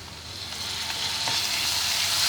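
Ginger and garlic fry lightly in a pan with cumin seeds, giving a steady, even sizzle that builds slightly over a couple of seconds, with no talking.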